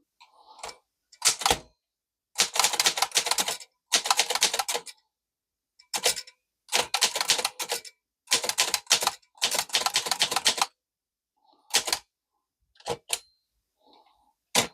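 A 104-year-old Corona 3 typewriter is typed on up close, with bursts of sharp mechanical key strikes broken by short pauses and a few isolated clacks, and no talking.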